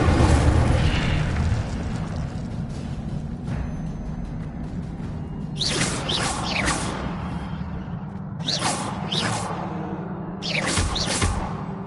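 Incendio fire spells are cast in the Hogwarts Legacy video game, sending out repeated whooshing fiery blasts and booms over a steady rumbling background. Loud bursts come in groups.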